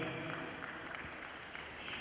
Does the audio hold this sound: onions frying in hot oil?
no